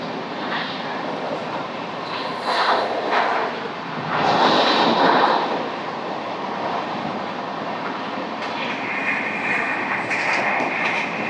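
The Samata Superfast Express, running Visakhapatnam toward Hazrat Nizamuddin, rushes along at about 130 km/h with a steady, loud roar of wheels and wind and periodic rattling swells, heard from on board with no voices.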